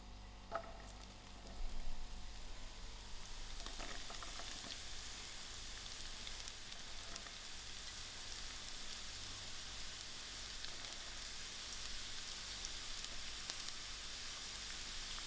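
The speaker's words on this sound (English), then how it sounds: "My oil has heated up and I'm going to add my onions to it." Onions sizzle and fry in hot oil in a pan for a stuffed-pepper dish with lamb mince, a steady soft crackling hiss with a brief louder burst as they go in, then continuous gentle frying.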